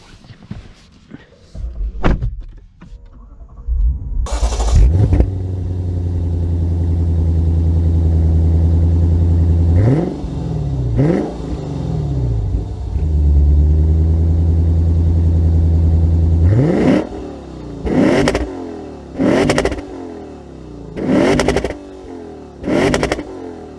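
A Lexus IS 500 starts up and pulls away, its engine rising through several hard revving, accelerating runs with gear changes, loud and close from inside the car, with brief talk at the start.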